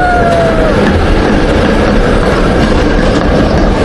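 A train rolls steadily past in San Francisco, a continuous loud rumble with faint rail noise and a brief squeal near the start, no talk.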